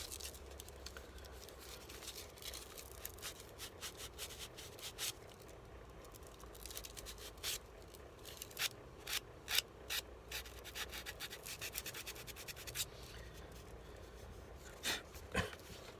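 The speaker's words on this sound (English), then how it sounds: "that's pretty much the sanding done" Hand sanding of a model part for an Avengers 'A' build, a steady soft rubbing scrape that runs throughout with intermittent sharper strokes and taps, fairly quiet and close, no voices.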